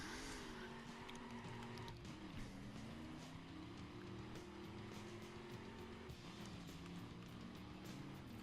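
A drag car in The Crew video game accelerates hard, its engine note a continuous loud roar that climbs in pitch and drops back with each gear shift, and no one speaks.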